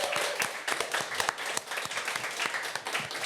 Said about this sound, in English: Can I get a round of applause for Liemarvin Bonevacia?